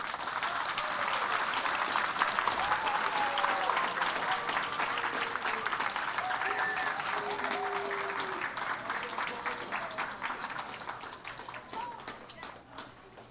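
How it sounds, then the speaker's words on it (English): Sustained applause from the audience at a school board meeting, a dense even patter of many hands that holds steady and tapers slightly toward the end. "Let's give them a round of applause."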